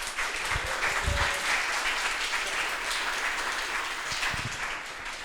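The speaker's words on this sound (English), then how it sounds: "Let's have a round of applause for our panelists." Applause from a meetup audience for the panelists, a dense and steady wash of many hands clapping at close range through the whole stretch, with a few low thumps mixed in.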